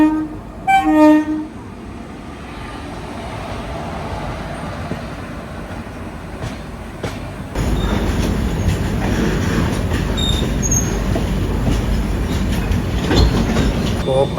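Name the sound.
express passenger train running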